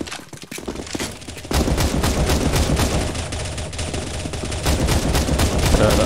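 Dense automatic gunfire from players shooting a boss in a CS:GO zombie escape map (ze_cyberpunk), loud and continuous after a brief choppy start, with no talk.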